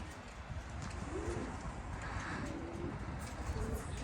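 Pigeons coo softly in a rooftop loft setting, low repeated calls rising over a steady background hum across the whole stretch.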